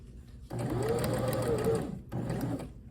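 A sewing machine stitches a curved seam under the presser foot, running steadily for about a second and a half, pausing briefly, then starting up again, all close and clear with no talking.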